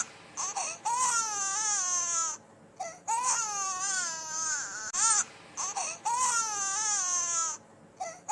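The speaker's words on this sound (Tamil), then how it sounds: "பாப்பா அழுகுறா பாருங்க." An infant cries loudly and close in repeated wailing bursts with short breathy pauses between them, wavering and rising in pitch.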